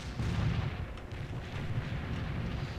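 A mortar artillery barrage in the World in Conflict game gives a dense, rumbling roll of low booming impacts that runs without a break.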